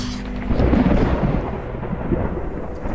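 A deep rumble of thunder rolls through steady rain, swelling loudly early on and then fading into a softer, lingering growl of the storm.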